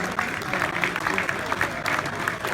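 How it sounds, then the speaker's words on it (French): An arena audience at a boxing gala in Monaco applauds heavyweight boxer Carlos Takam with sustained, dense clapping from a large crowd, steady throughout under a faint background voice. "qu'on peut encore applaudir, Carlos Takam"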